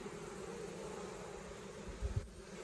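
Honey bees hum steadily around stacked two-box hives in the Carpathians during a record 2024 honey harvest, a faint continuous drone with a brief low thump near the end.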